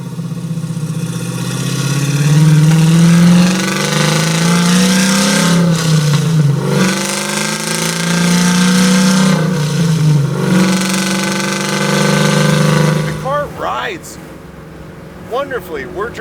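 A supercharged LS9 V8 in a 1967 Chevy Nova, rated around 900 horsepower, drones loudly up close while driving on rough Los Angeles roads, rising and easing through the gears, with a voice briefly heard near the end.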